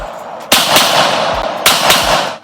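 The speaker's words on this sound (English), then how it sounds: "No Hands, No Feet, Shooting 9mm Handgun." Two loud, sharp 9mm handgun shots about a second apart, each with a booming echoing tail, heard through a played-back phone video.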